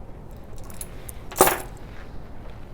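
Truck keys on a key bar with mag nuts jangle in one brief, bright metallic burst midway, over a quiet background.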